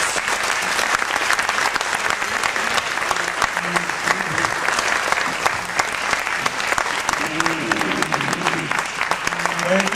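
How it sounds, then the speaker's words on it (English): An audience at a religious gathering gives a long, steady round of applause, dense continuous clapping filling the room with a few voices faintly audible underneath. "let us give them a big round of applause"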